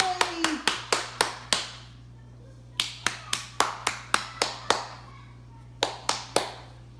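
A child claps hands in short bursts of sharp, close claps, about five to six quick strikes per run with brief pauses between runs, over a low steady hum indoors.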